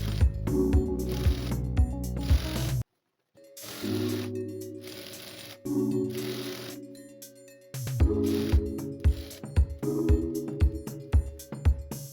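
A sewing machine stitches the folded side seam of a kurti in rapid mechanical bursts of clicking and whirring, pausing between runs, close and alone with no talk.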